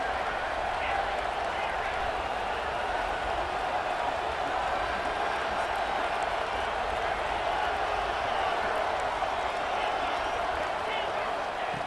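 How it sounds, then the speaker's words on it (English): Dense, steady roar of a big stadium crowd at a college football game in EA Sports College Football 26, filling the whole stretch with no letup and a faint clap-like texture, as fans urge on the defense near the goal line. "this big crowd doing everything possible to inspire this defense down here near the goal line"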